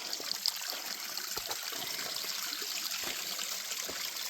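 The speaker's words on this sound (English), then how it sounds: "Here's a pretty little waterfall" A soft, steady trickle of running water, like a small waterfall heard up close, continuous and gentle with no voices.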